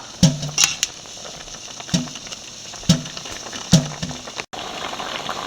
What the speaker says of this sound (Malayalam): നല്ലപോലെ തിള വന്നിട്ടുണ്ട്.